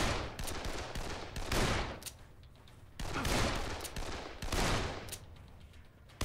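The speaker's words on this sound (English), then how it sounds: "I'm going back at it with the pistol" Pistol shots in the video game Dead Island fire in three loud clustered bursts, each a sharp crack trailing into a rumbling decay, spaced about every one to two seconds with no talk.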